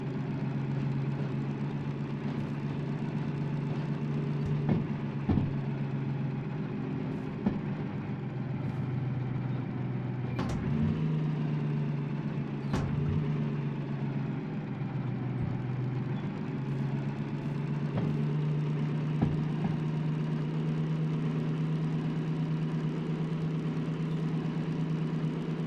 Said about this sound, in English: I'm not being very gentle with the engine.